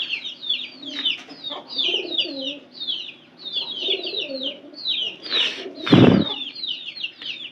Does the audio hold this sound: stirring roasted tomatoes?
no